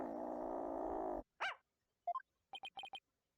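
A dog in Ace Attorney: Spirit of Justice gives a low, rumbling growl for about a second, then a sharp yelping bark, followed by a run of short chiming text blips.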